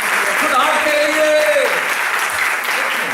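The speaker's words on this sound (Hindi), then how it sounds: "आपको मालूम ये ताली क्यों बजाते हैं?" An indoor audience at a church convention claps steadily throughout, a dense, even wash of applause with a voice calling out over it.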